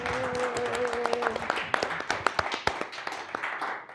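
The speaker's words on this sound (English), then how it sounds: "Let's give both Janet and Ben a round of applause." A small audience at a Democratic primary candidate forum claps for two candidates, a scattered, fairly quiet patter of individual hand claps over a few seconds, with a voice briefly at the start.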